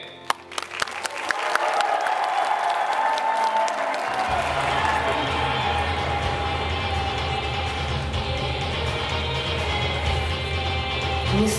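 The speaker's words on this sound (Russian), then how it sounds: "Ваши аплодисменты!" Applause from a convention audience after a Madoka Magica cosplay group is introduced on stage, starting with a few scattered claps and swelling into steady, loud, sustained clapping that fills the hall.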